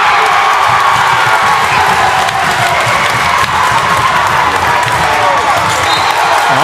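A dense, loud basketball crowd at a Southwestern vs Somerset Christian high school boys' game roars and cheers steadily after a dunk, with shouting and clapping blended into a continuous wall of noise.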